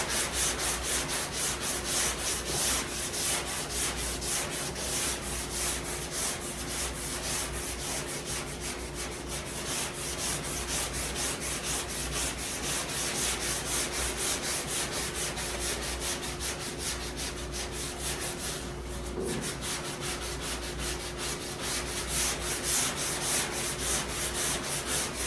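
Body filler on a car panel is block-sanded steadily, giving a continuous dense rasping hiss of rapid back-and-forth strokes, loud and close throughout, with no talking.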